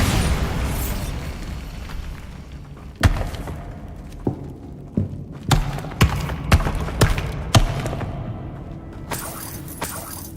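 Bombardo explosion spell cast in Hogwarts Legacy, a series of sharp bursts and booms, around seven or eight punchy impacts with shattering debris, irregularly spaced over a rumbling background.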